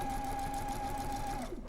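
A sewing machine runs steadily for under two seconds, stitching a quilted goose block, a close even mechanical whir that winds down at the end with no talking.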